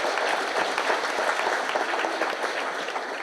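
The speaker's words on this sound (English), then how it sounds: "Can we give a big round of applause for everyone?" Audience applause in a historic public house pub during a community talk event, a dense steady wash of clapping that stays loud and full for the whole stretch without a break.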